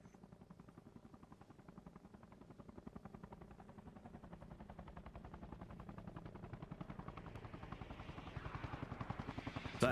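Helicopter in the military game Arma Reforger, a steady rapid rotor chop pulsing throughout, growing louder and nearer toward the end with no talk over it.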